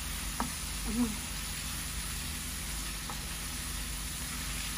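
Potatoes and eggplant sauté in a pan, making a faint, steady hiss of frying with a couple of soft stirring knocks early on and a brief low voice.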